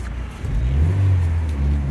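A Rover 820 Turbo Vitesse coupe driving around a car park gives a continuous close engine note with a low, slightly rising hum and no talk over it.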